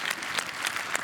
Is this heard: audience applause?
yes